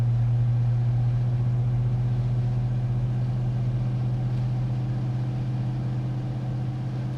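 A 1967 Pontiac GTO cruising at about 60 mph, its engine a steady low drone with road rumble, continuous and close throughout, no voices.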